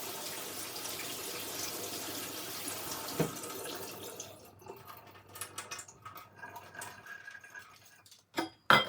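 A steady stream of running tap water pours for about four seconds as rice is washed in a home kitchen sink, then breaks into intermittent splashes, drips and handling sounds, with a louder burst at the end.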